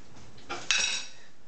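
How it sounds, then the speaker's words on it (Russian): A lid is set on a pot of spinach soup cooking on the stove. It makes a soft clatter, then a brighter metallic clink close by, with no talk. "Накрою крышечкой"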